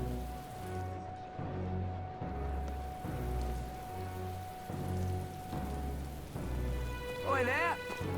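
Steady rain falls on surfaces in the video game Metaphor: ReFantazio, a soft continuous patter over a low rhythmic ambient bed, with a brief warbling tone near the end.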